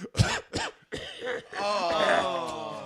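A few harsh, close coughs in quick succession, followed by a strained, drawn-out vocal groan.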